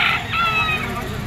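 A rooster crows once at a poultry auction market, loud and close, its call rising and then trailing off over about a second.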